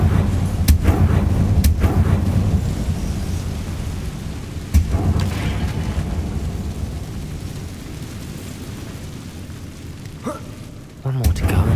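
An Incendio fire spell erupts in the Hogwarts Legacy video game: a few sharp, loud blasts that burst out and then rumble away over a steady low roar.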